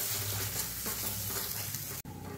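Ground masala paste sautés in a pan over a low flame, a close, continuous sizzle and frying crackle with a brief dropout near the end.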